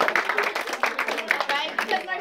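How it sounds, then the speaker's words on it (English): Scattered clapping from a small group of visitors at a roadside mystery spot attraction in California, uneven and close, with voices chattering underneath. "Okay, everybody give her a round of applause."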